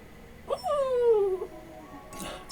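A dog whimpers in a single drawn-out, high whining cry that slides downward, fairly close and clear, with a faint murmur of background sound after it.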